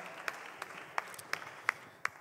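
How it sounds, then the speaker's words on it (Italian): Scattered hand claps from an audience at a regional singer-songwriter contest final greeting four finalists, about six distinct, evenly spaced claps over faint room noise, sparse and somewhat distant rather than full applause. "accompagniamoli con un applauso"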